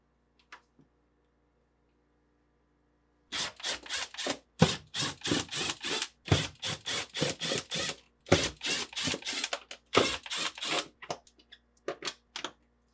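A 1/4-inch nut driver removes screws from a GE refrigerator evaporator cover, making quick repeated ratcheting clicks and scraping turns in short bursts, close and fairly quiet, with brief pauses between screws.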